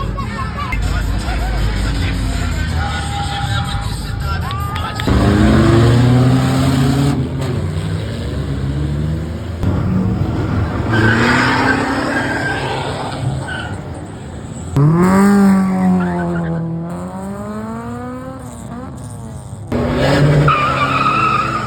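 A Toyota Innova and a Honda Civic race past with engines revving and rising in pitch, tires skidding, while a crowd murmurs and people talk over the noise at a car fiesta.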